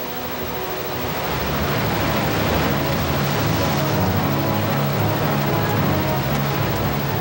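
Roaring walls of water in the parted sea rush in a continuous, loud, broadband wash, building slightly at first and then holding a dense steady roar with no voices.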